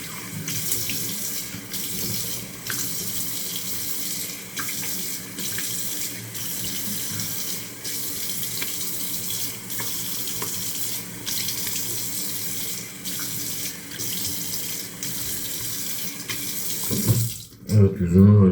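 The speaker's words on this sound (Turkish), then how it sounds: "yüzümü böyle soğuk suyla yıkadım iyice ben" Cold tap water runs steadily into a sink for a face wash, a close, even splashing stream with small hand splashes, ending in a brief louder rattle.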